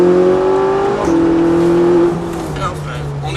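A Ferrari 458 Italia on the Montlhéry race circuit, its engine droning loudly from inside the cabin with shifting pitch as it accelerates, while a person talks over it.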